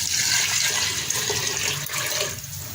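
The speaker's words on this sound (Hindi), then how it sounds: "साथ ही इसमें हम पानी डाल देंगे" Steady rushing splash of water pouring continuously into a pot of lentils, close and fairly loud with no pauses.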